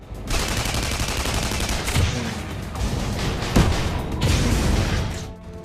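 Continuous gunfire from the video game Tribes roars alongside a dense stream of rapid weapon fire and occasional sharper blasts, loud and steady throughout with no talking.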